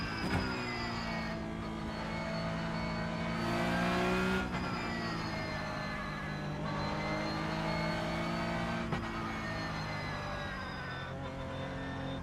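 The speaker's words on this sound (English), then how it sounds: "Do love the sound of this Porsche Cup, you know." A Porsche Cup race car in a racing video game holds a loud, strained engine note through a long straight, with several quick drops and climbs in pitch as gears change.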